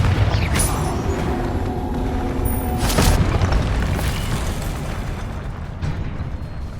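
A Confringo spell blasting in Hogwarts Legacy: loud, sustained booming explosions with crackling bursts roll continuously through the game soundscape, several sharper impacts standing out, and no one speaks.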